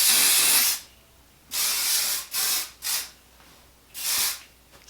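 John Frieda Radiant Red finishing hair spray hisses from the can in five bursts, one long, then three short puffs in quick succession and a final one after a pause, with quiet gaps between.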